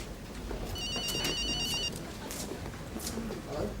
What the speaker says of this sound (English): Where's that ringing coming from?